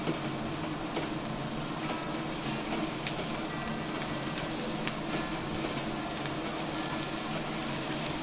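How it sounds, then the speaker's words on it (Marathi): Onion softening with salt in a hot pan for phodnicha bhaat, a steady close sizzle and crackle throughout with no talking. "आपण हा कांदा छान कोमवून घेऊया"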